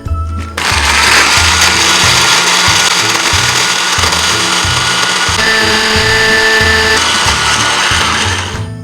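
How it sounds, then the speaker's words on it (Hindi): An electric grinder pulverises roasted biryani masala spices, a loud continuous whirring drone with a grinding rattle that runs steadily for several seconds after a sudden start, with no talking. "बिरयानी मसाले के तमाम इंग्रेडिएंट्स को मैं ग्राइंडर में डालूंगी और अच्छी तरह से पीस लूंगी।"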